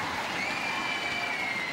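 Crowd applauding at a Magic versus Vixens netball match, a steady wash of clapping and crowd noise throughout the short stretch, moderately loud and diffuse.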